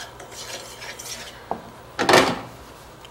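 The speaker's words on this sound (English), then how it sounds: "Nice frying pan, heavy." A heavy copper frying pan is handled in a kitchen while caramel sugar is made, giving a few sharp metallic clanks and scraping knocks at irregular moments, close and clear.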